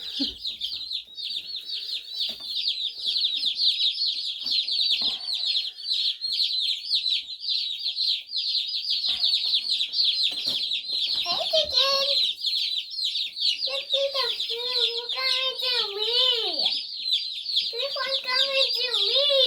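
Baby chicks chirp steadily and densely throughout, a continuous high peeping flock close by, with people talking intermittently over the calls in the second half.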